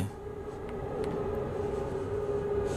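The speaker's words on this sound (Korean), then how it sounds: "계속 열차가 오고 있고" A subway train approaching a station in a horror video game set on Seoul's Line 2 gives a steady rumbling drone with a sustained tonal whine that slowly builds in loudness, heard alone with no talk.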